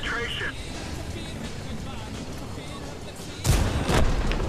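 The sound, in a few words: artillery shot in video game World of Tanks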